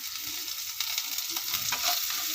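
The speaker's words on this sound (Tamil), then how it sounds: "உப்பு போட்டு நல்லா அப்படி விதக்கி விட்ருங்க" Chicken 65 masala fries in a pan with a bright, steady sizzle as a spoon stirs it through, scraping and clinking close by, with no talking.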